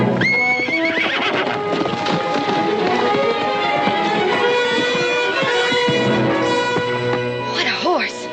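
A horse clip-clops and whinnies loudly nearby on a western movie soundtrack, with shrill neighs over busy hoofbeats, alongside voices and other background sounds.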